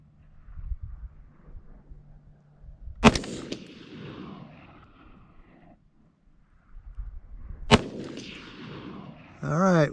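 Two loud, sharp AR-15 rifle shots ring out several seconds apart during barrel and bolt carrier group testing, fitted with a New Frontier Armory upper, Criterion barrel and Wilson Combat BCG, each crack followed by a rolling echo over quiet outdoor background.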